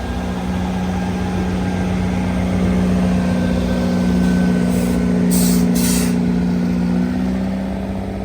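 An SRT passenger train brakes at Lamae, Chumphon, Thailand. Steady droning brake and engine tones are heard, with brief bursts of hissing air midway, loud and close, with no voices.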